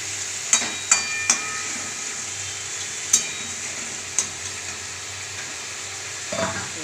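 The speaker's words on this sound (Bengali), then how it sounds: "তাই অল্প করে জল দিলাম।" Prawn and potato curry simmering in a pan after water is added gives a steady, soft hiss throughout, broken by a few sharp spoon knocks near the start and one low clatter at the end.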